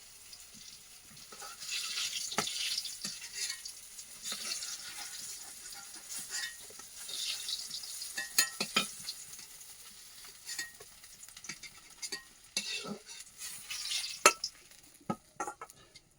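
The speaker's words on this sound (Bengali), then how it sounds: "বেগুনটা আমি রান্না করব কিন্তু বেগুনটা আগে সুন্দরভাবে ভেজে নিচ্ছি" Eggplant frying in a pan in a village home kitchen, a quiet steady sizzle with scattered clicks and scrapes of a spatula turning the slices.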